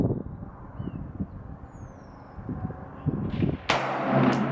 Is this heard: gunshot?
yes